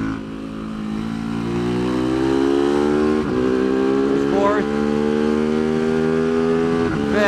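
TIANDA TDR300 race motorcycle screaming at high revs in third gear on the track at Mission Raceway, a loud steady engine drone with rising pitch and brief dips at each throttle change, close and continuous throughout.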